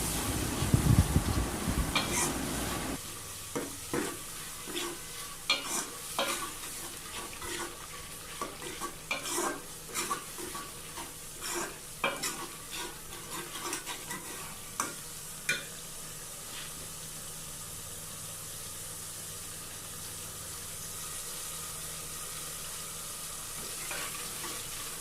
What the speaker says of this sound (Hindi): मिर्च, लहसुन, अदरक का पेस्ट जो है वो शामिल कर देंगे और इसको अच्छी तरह भून लेंगे।